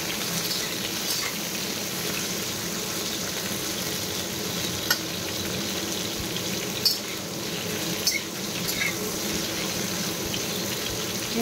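Prawns frying in hot oil for an Odia chingudi tarkari: a continuous crackling sizzle, fairly quiet and steady, with a few sharper pops and spits scattered through it and no talking.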